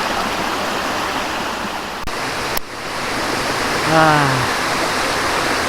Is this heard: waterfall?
yes